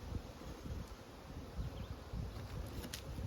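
Honeybees buzzing over about eight frames of an open hive colony, a steady low droning hum with rustling, close and continuous with no talking.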